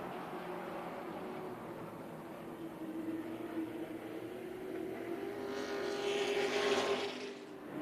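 Thunder trucks racing on the oval at Tucson Speedway, a continuous engine drone heard from a distance that swells as the pack draws nearer near the end, faint and with no talk.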